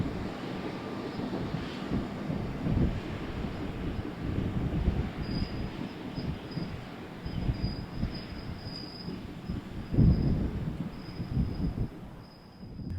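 A South Shore Line passenger train arriving at Munster Dyer, rumbling steadily on the rails with high, thin wheel squeal rising midway, wind buffeting the microphone, the rumble swelling briefly near the end.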